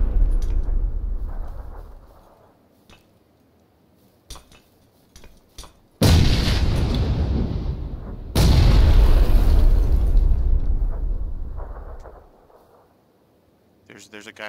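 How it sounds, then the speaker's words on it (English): Gunfire crackles and booms among trees in a video game, two loud sustained bursts in the middle, with scattered quieter shots and talk around them. "I just heard the shots"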